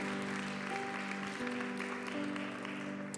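A church congregation claps for the Lord during a Spanish-language sermon, a soft, steady wash of applause under a sustained organ or keyboard chord, moderately distant.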